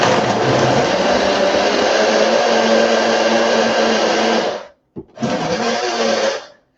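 Blender mixing a vanilla nutrition shake, a loud steady motor whir close by that cuts off briefly and then restarts in a short pulse.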